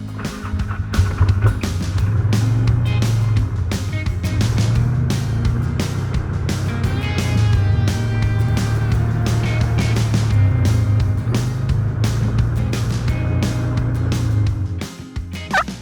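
A four-wheeler ATV engine drives steadily for the whole stretch out in South Texas turkey country, a continuous mid-pitched motor drone that cuts off right at the end.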